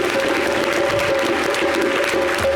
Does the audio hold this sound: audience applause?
yes